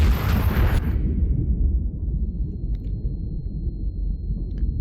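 A heavy artillery gun in the Iron Nest simulator game fires once with a loud, sharp blast, followed by a long, deep rumbling decay.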